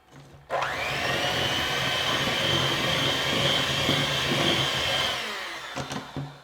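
An electric mixer beats cookie dough with a peanut butter base, starting abruptly and running as a loud, steady whir close by for about five seconds before winding down with a few bumps.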